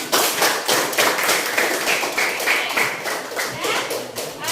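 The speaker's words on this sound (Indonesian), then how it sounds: "Tepuk tangannya dulu dong." Classroom students applaud a group's presentation on political history in an Indonesian class, a dense steady patter of many hands clapping throughout at fairly close range.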